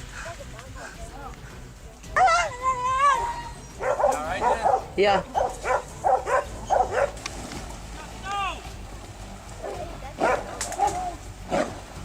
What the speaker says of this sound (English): The dogs' continuous barking helps guide the hunters directly to the scene where the pig is being held.